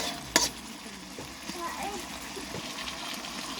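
Aromatics sautéing in a pan while chicken tinola is cooked: a soft, steady sizzle with faint stirring and splattering, and one brief sharp clatter near the start.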